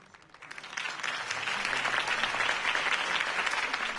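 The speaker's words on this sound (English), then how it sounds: "could have heard that applause" Crowd applause in a Batman video game swells up quickly and holds steady as a dense, continuous clapping roar.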